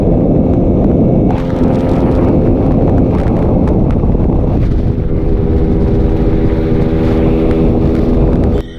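A Suzuki Raider FI motorcycle with an ECU tune rides past, its engine roaring loud and close with heavy wind buffeting, the pitch shifting midway as it goes by.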